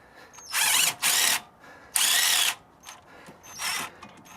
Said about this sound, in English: I'm going to use a small impact wrench, half-inch small format impact wrench from DEWALT to get this lower one off